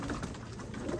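Pigeons coo softly inside a loft, a faint, low murmuring under quiet background noise with no talk.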